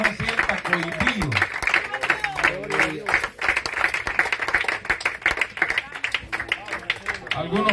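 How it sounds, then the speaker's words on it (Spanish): Church congregation applauding, an uneven patter of many hands clapping with voices talking over it throughout. "El aplauso no se sienta cohibido."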